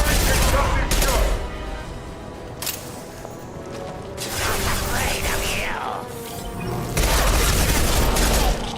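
Concussive shots and weapon fire burst out in Mass Effect Legendary Edition on PC on Insanity difficulty, loud booming blasts and rapid gunfire in several bursts with quieter gaps and game sounds between them.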